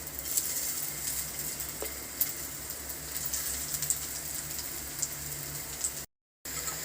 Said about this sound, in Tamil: இப்போ நம்ம செஞ்சு வச்சுருக்க பீட்ரூட் கட்லெட்டுக்குள்ள மெதுவாக போட்டு பொரிச்சு எடுத்துக்கலாம்